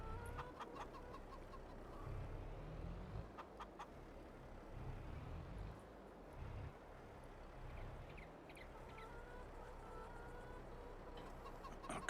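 Chickens in the video game Farming Simulator 22, a flock clucking and squawking steadily over a low, rumbling farm-machinery background, quiet overall, with scattered sharper calls throughout.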